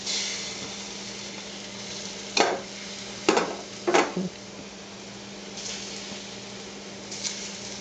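Plantains fry in a frying pan with a soft, constant sizzle, broken by a few short scraping bursts of stirring.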